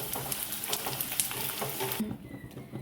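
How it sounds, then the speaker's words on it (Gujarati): Edible gum (gond) frying in hot oil for sukhdi gives a close, steady sizzle with stirring clinks, then quiets abruptly near the end. "આપણે ગુંદને નાખીએ છીએ ફ્રાય કરી લઈ"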